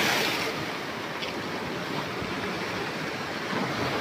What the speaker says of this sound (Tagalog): lumakas na ang alon